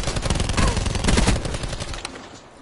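Rapid automatic gunfire in the Call of Duty Blackout battle royale video game, loud and dense bursts of shots rattling continuously for about two seconds before tapering off.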